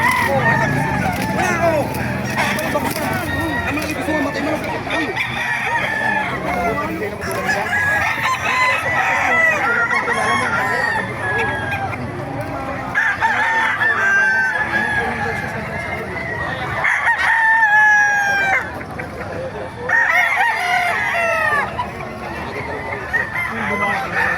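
Several roosters crow repeatedly, some near and some farther off, amid clucking chickens and a busy crowd of people talking at a chicken market in Bocaue, Bulacan.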